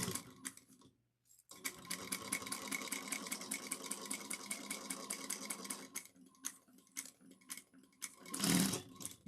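A sewing machine stitches a small card wallet, joining the lining to the exterior in fast rhythmic bursts of needle clatter. It pauses briefly near the start and stops again toward the end, where a louder rustle of fabric handling follows.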